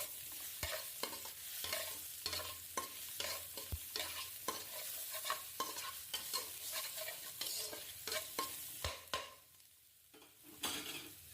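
Ginger and garlic, chopped or as paste, frying in hot oil in a pan for a Bengali egg pakora dish, a steady close sizzle broken by repeated clinks and scrapes of stirring, with no talk.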